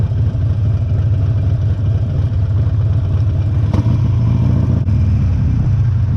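2019 Harley-Davidson XL1200CX Roadster motorcycle downshifting while riding: a loud, deep, continuous engine rumble with a couple of brief sharp shift transients partway through.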